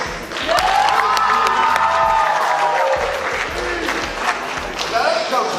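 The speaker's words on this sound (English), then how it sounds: "How about a little applause for the head coach?" A crowd applauds and cheers for a high school football head coach, a dense, loud wash of clapping with shouts and whoops layered through it that carries on steadily throughout.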